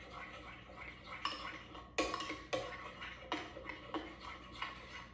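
A utensil stirs and whisks salad dressing seasoned with salt in a bowl for a Mediterranean pita salad. Sharp clinks and scrapes come at an irregular pace, a handful of distinct strikes heard close and fairly quiet, with no talking.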